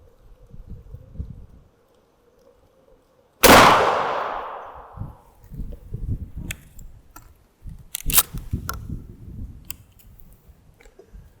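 A shotgun fires a single Hornady SST slug through a smooth barrel: one sharp, loud blast with a ringing decay, followed by faint clicks and rustling handling noises.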